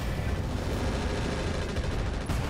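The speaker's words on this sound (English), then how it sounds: "blast him with a lot of machine guns" Steady mech machine gun fire in the modded BattleTech game RogueTech, a dense, unbroken rattle of shots at moderate, fairly distant loudness with no voices.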